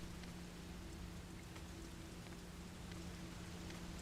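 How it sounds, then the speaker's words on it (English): Rain patters steadily on a window in the video game Fatal Frame: Maiden of Black Water, a soft continuous wash of droplets over a low hum, with no voices. "The sound of raindrops on the window echoes faintly."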